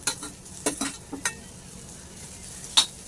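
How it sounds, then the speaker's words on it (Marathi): An onion roasts in a pan for Malvani chicken curry, with faint sizzling under a few sharp scrapes and clinks of a spoon stirring against the metal. "व्यवस्थित तो लाल होईपर्यंत भाजायचा आहे गुलाबी होईपर्यंत"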